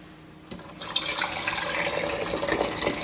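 Elderberry juice pours through a strainer and funnel into a quart-sized jar, a steady close liquid splashing and trickling that starts abruptly after a brief quiet moment and runs continuously.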